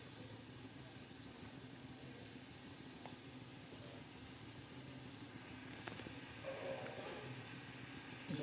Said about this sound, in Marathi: उकळून द्यायचे आता थोडे